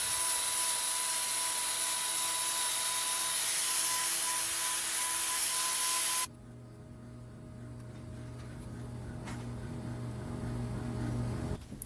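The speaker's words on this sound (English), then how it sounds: "so I'm going to get my grinder out to thin that down" A power grinder thins the horn of a hoof wall during hoof trimming. A loud, steady whine runs close for about six seconds, then cuts off abruptly, leaving quieter low scraping and hum.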